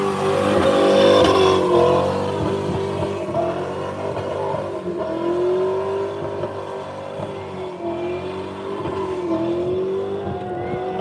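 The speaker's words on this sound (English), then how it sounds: "That was a great burnout." A hot rod at a Power Tour burnout event holds a loud, sustained engine rev with wavering pitch as its tires spin, a continuous roar close by with no talking.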